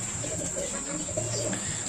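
Racing pigeons coo in soft, repeated low calls close by during a derby lap, under a steady high-pitched background tone and faint chatter.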